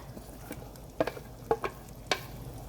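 A spatula stirs steamed green papaya into vegetables in a pan, giving soft sizzling beneath three or four distinct scraping knocks spaced about half a second apart.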